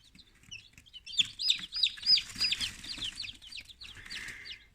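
Newly hatched chicks peeping from an incubator, a cluster of rapid high-pitched cheeps overlapping in bursts, close and lively, with one longer steady peep near the end.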